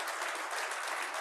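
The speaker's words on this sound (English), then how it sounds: "let's give a big round of applause" A room of Kiwanis club members gives a dense, steady round of applause at a luncheon meeting, the clapping continuous and fairly close.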